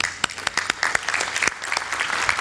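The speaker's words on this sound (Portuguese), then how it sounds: "Un aplauso." Steady applause from an audience after a speaker finishes on a panel about connecting CDNs to IXPs, with individual sharp claps standing out over a continuous wash of clapping.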